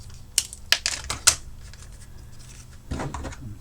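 Cutting the outer insulation sheath off a wire, several sharp close snips and clicks in quick irregular succession, then a quieter pause and a soft rustling thud.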